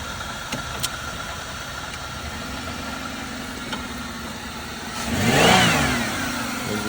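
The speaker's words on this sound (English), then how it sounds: "Engine sounds pretty good on this one." A Buick Regal at a city vehicle auction runs its engine and pulls forward in gear, a steady mid-pitched idle swelling into a louder revving surge near the end, with no talk over it.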